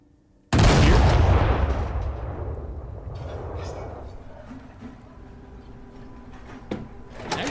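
A Panther 2A5 tank fires a single loud, booming shot in the video game Space Engineers, opening with a sharp blast that rolls into a long decaying rumble, followed by faint clatter and a small thump near the end.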